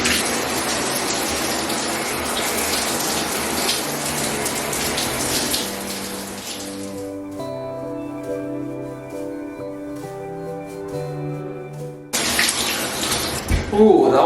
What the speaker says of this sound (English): I'm gonna turn the water on, and as soon as it turns on, I'm gonna fully submerge myself in it